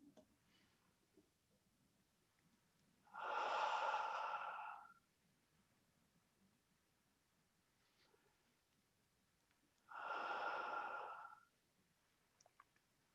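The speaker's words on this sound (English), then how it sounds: "So in through your nose. Let's take a few more breaths like this." Two slow, long breaths drawn audibly, several seconds apart, each a soft airy rush lasting over a second, close in an otherwise quiet room.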